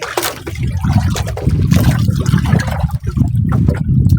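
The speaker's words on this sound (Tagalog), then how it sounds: "Lakas ang agos. Kagabi medyo mahina pa yun ang agos. Ngayon malakas na." A strong water current rushes past in a loud, steady, continuous flow that holds its churning roar for the whole stretch, with no voices.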